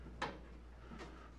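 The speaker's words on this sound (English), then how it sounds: "open the door up" A Reznor unit heater's metal access door is opened after a latch is twisted. There are two short, quiet clicks or clunks about a second apart, with no talking.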